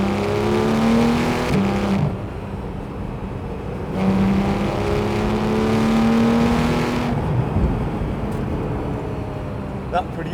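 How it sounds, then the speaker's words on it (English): A car's 4-litre naturally aspirated engine revs twice in rising surges and then settles to an idle, heard beneath steady talking. "This, of course, has the 4-litre naturally aspirated engine."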